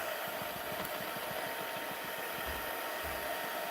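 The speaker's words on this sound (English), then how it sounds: "I can bring in my heat tool, and on low." A handheld heat tool set to low blows steadily to dry ink on a Christmas card, giving a constant loud whooshing hum with a faint rapid fan pulse and no talking.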